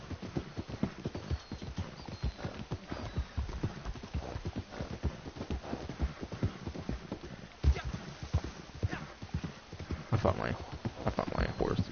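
Horse hooves galloping in the video game Red Dead Online, a fast, continuous clip-clop rhythm running throughout at moderate level, with an occasional whinny from the horse.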